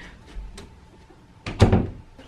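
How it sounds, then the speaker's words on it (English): An interior door swings shut with a single soft thump in a quiet room, a brief knock and rustle just before it, and no talking. "Let me close the door."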